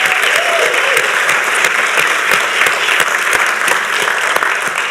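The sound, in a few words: round of applause for the judges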